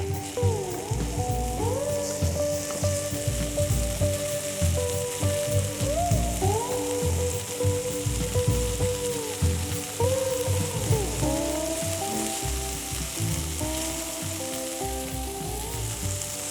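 Flank steak sears in a hot pan with a loud, continuous close sizzle, spattering steadily with crackles throughout and no talking.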